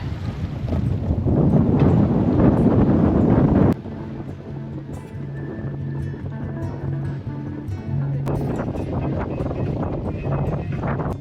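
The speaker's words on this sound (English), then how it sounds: "there's a nice bit of wind funneling through this channel, so it's going a bit faster now" Strong wind funnels through a channel between islands in New Zealand while a sailboat moves under way, rushing and buffeting loudly at first, then easing into a steadier gust-driven roar with water noise underneath.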